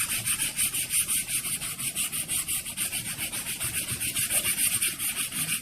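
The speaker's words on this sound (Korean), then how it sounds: "액자 프레임을 채색을 다 했으면 자연스러운 느낌이 나도록 사포질을 해보겠습니다." Sandpaper rubs a painted wooden picture frame in steady, rhythmic back-and-forth strokes, about four per second, a close, even scratchy hiss with no voices.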